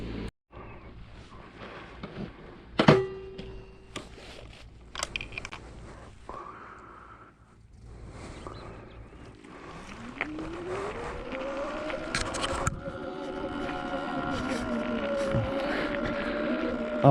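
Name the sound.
Sur Ron X electric dirt bike riding outside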